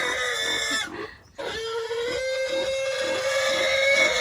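A pig in the Bohol countryside during a village fiesta grunts and oinks in a steady series of nasal calls, loud and close, with a brief drop in the middle and no speech.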